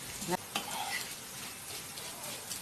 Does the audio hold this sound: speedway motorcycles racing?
no